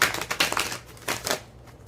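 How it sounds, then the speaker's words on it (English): A deck of tarot cards being shuffled during a pick-a-card reading, giving several quick papery riffling bursts in an uneven rhythm, close and moderately loud, with no voices. "I'm going to shuffle another card for y'all"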